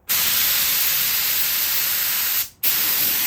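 A paint spray gun blasts water out onto a piece of cardboard in a loud, steady hiss, cutting off briefly before resuming.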